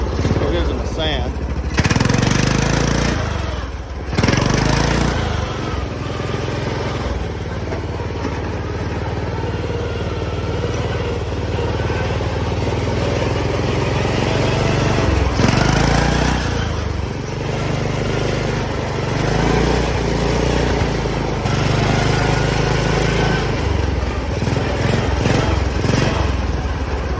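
A homemade full-auto MTD lawn mower engine drives through sand with a loud, steady buzzing drone that rises and falls with throttle, its clatter carrying throughout, while someone talks over it.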